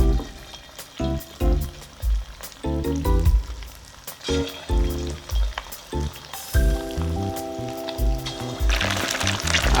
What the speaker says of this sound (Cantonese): 將嗰個肉片慢慢咁一塊一塊放落去炸